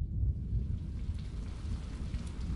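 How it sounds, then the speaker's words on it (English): Rain beginning to spatter against window glass, a dense steady patter with a low rumbling wash beneath, close and moderately loud throughout with no voices. "The first few drops of rain, foreshadowing the oncoming downpour, begin to spatter against the glass panes of your window"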